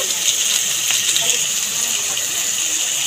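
Water pours steadily into a pan of ground spices such as coriander powder and Kashmiri chilli powder, a loud, close, continuous gushing splash that lasts the whole clip.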